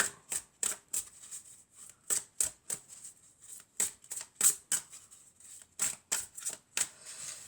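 Tarot cards being drawn and handled during a card reading, a quick series of crisp snapping flicks and slides, about twenty short papery taps in an uneven rhythm, close and clear with no voices.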